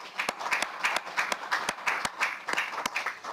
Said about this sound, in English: let's give the recipients a round of applause remotely and in the chamber for their achievements